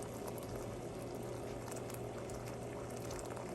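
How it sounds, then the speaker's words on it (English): Hot water poured steadily from a kettle into a canning pot holding a jar of watermelon rind preserves, a continuous close, even splash and gurgle without talk. "I made some hot water in my kettle, so I'm going to slowly pour this in the corner, not on top of my jar"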